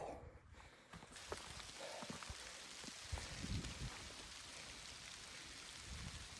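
Rain falls steadily in the Georgia wilderness, an even hiss of drops broken by occasional nearby patters and knocks, with no one speaking.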